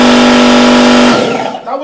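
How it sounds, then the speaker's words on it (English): A standard air compressor rated at 90 decibels runs close by with a loud, steady mechanical drone and a strong hum. It cuts off abruptly partway through, leaving only quieter, uneven room noise. "Next to me is a standard air compressor. And this air compressor is at 90 decibels."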